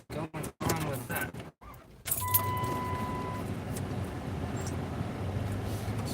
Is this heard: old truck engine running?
yes